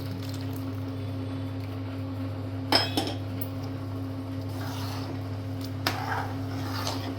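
A spoon scrapes and clinks against a pot of basmati rice kheer being stirred with milk, a few sharp metallic taps over a steady low hum from the stove.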